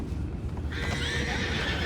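A horse whinnies loudly over a steady low rumble of hooves and ambient noise in the video game Red Dead Redemption 2, the neigh rising partway through and holding for over a second.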